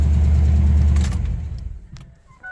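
V8-swapped Ford Ranger pickup idling on a new fuel system tune, a loud steady low rumble that fades and settles, with a brief rev blip near the end.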